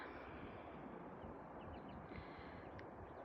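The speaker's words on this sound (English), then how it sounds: "I can still hear the helicopter dodging in and out." A helicopter flying in and out near a large power line, heard as a steady, dense engine and rotor drone that stays loud throughout without breaks, with no one speaking.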